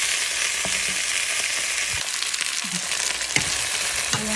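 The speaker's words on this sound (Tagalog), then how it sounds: "Ayan guys, na medyo na-fry na yung chicken." Chicken pieces fry in a pan with a dense, continuous sizzle and crackle close by, broken by a few soft clinks and stirring scrapes.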